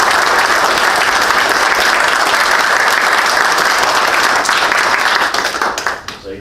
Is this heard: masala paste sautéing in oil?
no